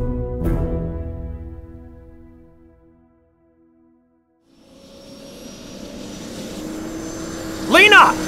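An aircraft engine thrums loudly at first, fades to near silence, then builds again as a rising drone, with a brief burst of sharp noise near the end.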